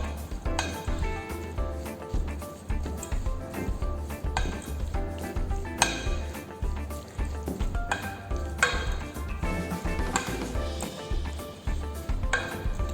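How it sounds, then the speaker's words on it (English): Som tam salad being tossed with a wooden spoon after fresh lemon juice is added, making repeated close clacks, scrapes and clinks against the bowl in an uneven rhythm, with no voice. "Now gently mix it very well with a spoon, with a wooden spoon or a tongs"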